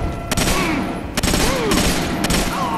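Rapid bursts of gunfire from a Splinter Cell Conviction firefight, with several sharp loud shots spaced about a second apart over continuous game noise and a faint voice.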